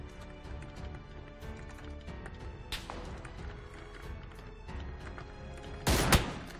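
Sporadic gunfire in the battle royale game PUBG, solo ranked match, with scattered shots and footsteps through the clip and a loud burst of close shots near the end.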